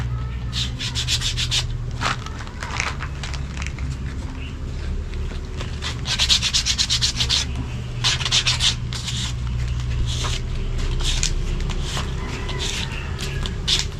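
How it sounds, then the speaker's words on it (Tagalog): Sandpaper rubs by hand over a homemade fishing lure in quick, scratchy strokes that come in bursts, close up over a low steady background hum. "Dati hagurin natin ang liha."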